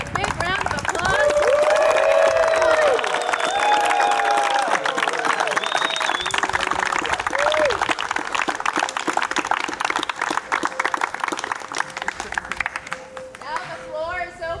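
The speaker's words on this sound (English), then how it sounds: "let's congratulate the cast of 2020 with a big round of applause" Audience applause and cheering at a high school jazz event celebrating the class of 2020, a loud continuous crowd with clapping, whoops and lively chatter throughout.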